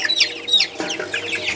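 Young tiger chickens on a poultry farm cluck and peep in a quick, overlapping burst of short calls, close by and fairly loud, with no talking.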